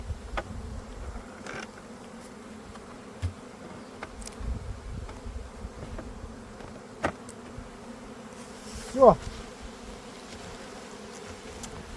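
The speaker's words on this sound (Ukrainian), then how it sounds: "Дивіться, як працюють бджоли." Honeybees buzz in a steady, low drone around the hives, with a few soft clicks and knocks nearby.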